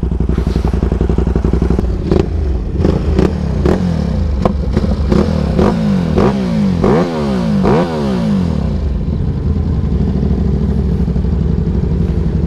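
A full-carbon Suzuki GSX-R motorcycle engine runs close by with a deep, steady idle, broken by a series of sharp clattering knocks and blips in the middle before it settles back to a smooth rumble.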